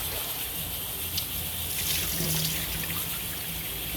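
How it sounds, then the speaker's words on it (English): Rice is rinsed by hand in water at a kitchen sink or tap, a steady running splash with swishing and trickling, close and continuous with slight swells in loudness, no talking. "Let me just wash this rice and then I'll throw it in"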